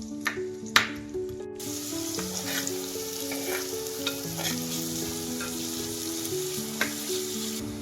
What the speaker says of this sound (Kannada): ಈರುಳ್ಳಿ ಹಾಕಿದ್ರೆ ಇದನ್ನು ಸ್ವಲ್ಪ ಬ್ರೌನ್ ಕಲರ್ ಆಗೋವರೆಗೂ ಸ್ವಲ್ಪ ಬೇಯಲಿಕ್ಕೆ ಬಿಡಬೇಕು